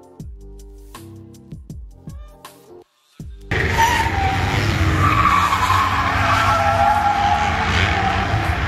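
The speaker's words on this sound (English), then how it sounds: "came in a little too hot and then spun out" A race car on a track skids and spins out after entering a corner too fast, a loud, sustained roar of engine and squealing tyres filling several seconds after a brief stretch of quieter engine sound with sharp transient bursts.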